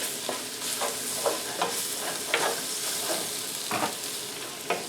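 Cooked flour being stirred in a pan for a chicken fricassée, with soft scraping strokes at irregular intervals over a faint continuous sizzle, close and fairly quiet.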